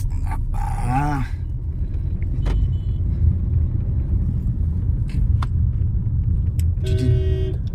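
A car engine rumbling steadily from inside while driving on a road near Vijayawada, a constant low drone with occasional knocks and a horn-like tone near the start and end.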